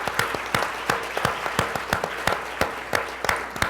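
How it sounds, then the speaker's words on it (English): Audience applause after introductions at a public conversation event, heard as a sparse, irregular smattering of distinct hand claps, moderately close and fairly quiet, with no talking. "How about a big round of applause?"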